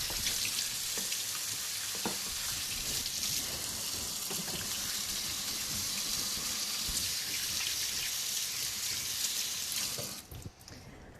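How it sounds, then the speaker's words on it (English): Hands being washed under a running kitchen tap while a soup is made, a steady broadband rush of water splashing into the sink for about ten seconds before it cuts off near the end. "Now let me wash my hands before I proceed."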